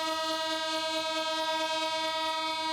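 A train runs on the newly opened Beed–Ahilyanagar railway line in Beed, sounding a loud, steady horn held for the whole stretch over a faint background of crowd noise.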